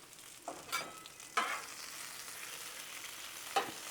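Banana nut French toast and sausage frying in a pan, giving a steady sizzle with a few louder crackles and clatters of turning, close and without talk.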